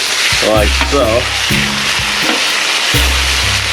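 Steaks sear in oil on a Blackstone griddle with a constant broad sizzle running under a man's close speech throughout.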